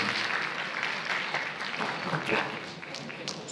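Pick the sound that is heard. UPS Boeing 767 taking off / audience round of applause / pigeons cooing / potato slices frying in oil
audience round of applause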